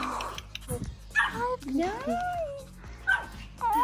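A newly arrived puppy whimpers and gives high yips in short bursts close by, while excited voices talk over and between the cries.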